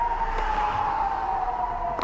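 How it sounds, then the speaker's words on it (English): A rocket warning siren wails steadily at a distance in Israel amid wartime attacks, its single sustained tone rising and falling slightly over a broad background rumble, with no talk. "Another one of these sirens is just going off."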